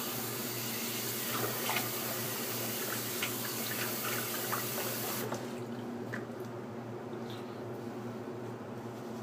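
Water runs steadily from a tap while a face is wetted before lathering for a double-edge razor shave, a continuous close splashing hiss with light drips that quiets partway through.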